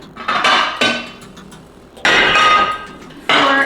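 A dish picked up and set down in a home kitchen while preparing a Russian mushroom julienne, giving a few loud, sharp clinks and knocks in separate bursts, close by with no talking.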